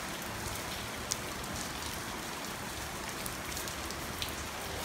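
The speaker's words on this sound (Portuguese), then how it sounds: "Como sempre, em todo vídeo que eu vou fazer, chove." Rain falls steadily outdoors, a constant soft hiss with a few faint drop taps and no voices.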